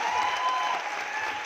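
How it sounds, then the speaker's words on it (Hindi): An audience at a 4 Emacity empowering recognition programme gives leaders a round of applause: dense, steady crowd clapping that holds at an even loudness throughout. "तुम तमाम लीडर्स के लिए एक बार जोरदार ताली होनी चाहिए।"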